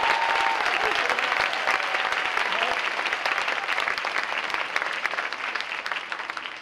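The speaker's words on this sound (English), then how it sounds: "Can we applaud her?" An audience at a Creative Mornings talk applauds the speaker's wife, giving sustained, dense clapping from a full room that carries on steadily from start to finish.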